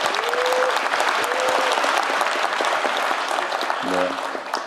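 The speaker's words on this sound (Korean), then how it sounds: "여러분 박수 크게 부탁드립니다" Audience at a Jeonbuk town hall meeting applauding loudly and steadily throughout, a dense wash of clapping with a brief tone near the end.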